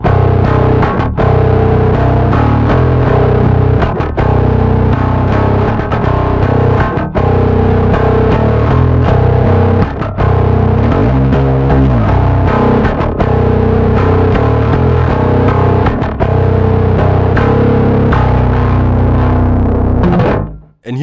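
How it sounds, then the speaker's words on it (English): A bass guitar through a KHDK Abyss distortion pedal on its high setting plays a continuous, loud, gritty riff with steady picked notes, ending in a short fade. "high setting jumps right to full distortion"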